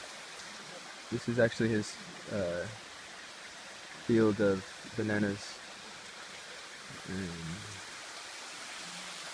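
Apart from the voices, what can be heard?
waterfall in Kalime, Togo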